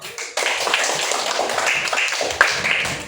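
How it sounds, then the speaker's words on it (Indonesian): A class of schoolchildren claps hands together after a sharp start, a dense, fairly loud burst of clapping that continues steadily with a few scattered louder claps. "Tepuk tangan, duduk."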